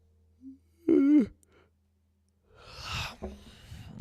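A single drawn-out human yawn with a falling voiced groan, fairly close and clear, followed after a pause by a low breathy exhale and faint room noise.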